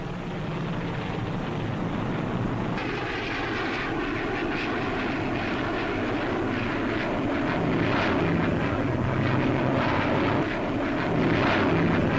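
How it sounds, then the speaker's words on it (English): A Gloster Javelin delta-wing fighter jet flies past at the 1952 Farnborough air show, giving a steady, sustained roar that swells slightly toward the end, with no talk over it. "the Javelin is the first Delta fighter to be put into actual production"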